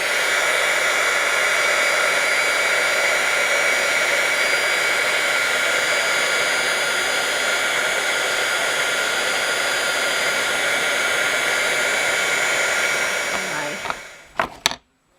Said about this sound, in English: So I'm going to go ahead and heat emboss this.